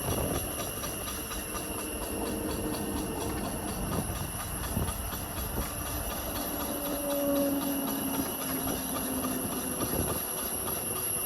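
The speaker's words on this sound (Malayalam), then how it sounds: "അത് വണ്ടിയുടെ ബ്രേക്ക് പാഡ് കഴിഞ്ഞിട്ടുള്ള സൗണ്ടാണ് കേട്ടോ. ട്രെയിനിൻ്റെ സൗണ്ട് പോലത്തെ" An Ola electric scooter with worn brake pads rides along, a steady rumbling, rail-like drone with drawn-out squeals rising over it, close and fairly loud, with no talk.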